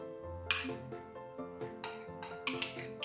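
A spoon scrapes and clinks against a pan while thick Tirunelveli halwa is stirred with cardamom powder, sharp taps recurring every half second or so over a soft steady musical background.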